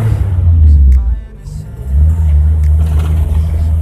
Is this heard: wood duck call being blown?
no